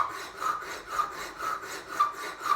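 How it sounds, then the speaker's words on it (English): Hand file cutting octagonal flat facets on a metal adjuster, a steady rasping scrape in regular strokes about every half second, close and fairly loud with nothing else heard. "now I'm going to start filing the octagonal flat facets on the rest of the adjuster"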